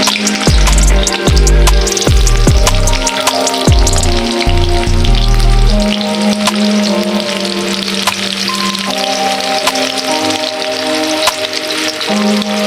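Chopped onion sizzles in white oil in a wok for a Bangladeshi chepa shutki bharta, a loud steady frying hiss with a few knocks and scrapes early on, continuing alone without talk.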